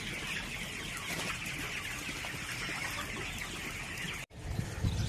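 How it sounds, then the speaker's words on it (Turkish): A steady chorus of chicks and hens clucking and peeping fills the space, constant and fairly close, with a brief cut near the end. "Bizim civcivler büyümüş. Bakın civcivlerimize büyümüşler."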